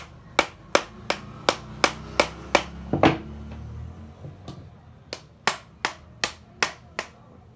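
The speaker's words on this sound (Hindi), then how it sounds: "तो चलिए हम इसे ठोक ठोक कर निकालते हैं" Metal hammer blows knock a stuck bit out of a hammer drill machine: about a dozen sharp, evenly spaced strikes, a brief pause with a duller thud and scrape, then another quick run of ringing taps.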